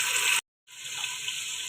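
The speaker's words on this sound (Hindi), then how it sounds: "जो ऑयल बचा उसी में अब ये ज़रा सा पानी डालना था।" A little water is poured into leftover hot oil in a pan while cooking potato egg curry, a steady hiss and gush broken by a brief silence, then resuming at a lower level.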